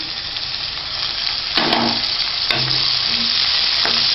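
Onions sauté in a pan for Madurai-style kothu parotta, giving a continuous close sizzle punctuated by three distinct spatula scrapes and stirring knocks, with no voices.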